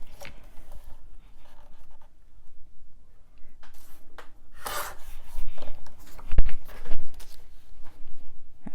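Paper pieces for a Boulevard-style mini album are trimmed and handled, with soft rubbing and rasping paper sounds close by, one brief sharper scrape midway, and steady shuffling throughout.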